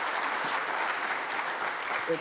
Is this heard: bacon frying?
no